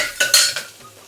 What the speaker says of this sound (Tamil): இதை லைட்டாக அப்படி ஒரு கிண்டு இப்படி ஒரு கிண்டு.